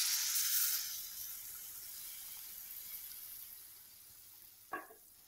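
Tamarind extract is poured into fried masala for a garlic tamarind gravy, giving a loud burst of hiss that quickly settles into a soft, fading simmer, broken near the end by one sharp clack of the spoon against the pan.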